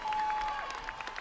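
Family members on the sideline of an American Ninja Warrior course applaud and cheer, a steady wash of clapping under a faint sustained tone, with no talk over it.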